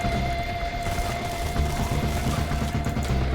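Turrets fire rapidly in the video game Borderlands 2, a dense continuous rattle of automatic gunfire with a steady electronic tone beneath, loud and unbroken for the whole moment.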